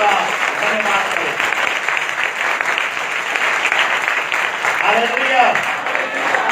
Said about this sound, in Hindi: तो उसके नाम सबसे ज्यादा ताली बजा के हम परमेश्वर का धन्यवाद करें।